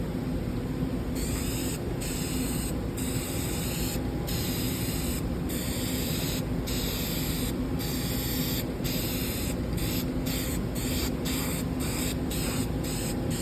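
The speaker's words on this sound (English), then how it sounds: "The spray can is old and it's splattering." An old aerosol spray paint can sprays in a steady hiss, sputtering and spitting in repeated short bursts as it splatters.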